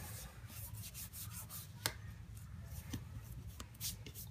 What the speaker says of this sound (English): you're gonna really work that flake into all of those adhesive areas